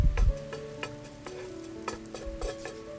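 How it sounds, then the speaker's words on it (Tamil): Onions frying in oil on an induction stove, a soft steady sizzle broken by light, regularly spaced clicks and taps of a utensil, close and fairly quiet. "ஸோ இந்த வெங்காயத்தை நல்லா ஃப்ரை பண்ணிக்கிறோம்"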